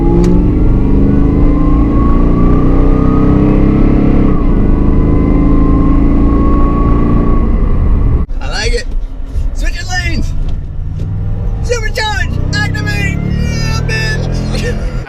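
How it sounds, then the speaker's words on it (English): A Toyota Tundra with a Magnuson supercharger and TRD Pro suspension accelerates, its engine drone and rising supercharger whine steady for about eight seconds before breaking into choppier bursts, loud and close. "This is getting up to speed with that Magnuson supercharger whine."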